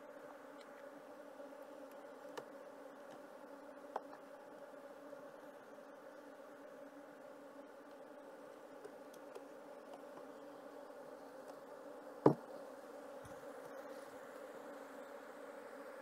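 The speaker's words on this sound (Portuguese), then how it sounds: "Abelha aqui muito defensiva." Steady low buzzing of a defensive honey bee swarm during a honey flow after recurrent rain, a continuous even drone with a few brief clicks and one sharp tap near the end.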